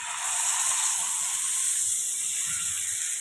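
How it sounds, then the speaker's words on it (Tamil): Fish frying in plenty of hot oil in a home kitchen, a steady close hiss and sizzle that eases slightly partway through, with no talk. "எண்ணெய் காஞ்சிடுச்சு இப்போ மீன் போட்டுக்கலாம்"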